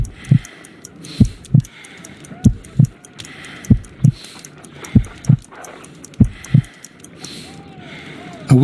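A weak, slow heartbeat of roughly 50 beats per minute in the Sherlock Holmes: Crimes and Punishments video game, its paired low thumps repeating steadily and close up over a faint ambient hum.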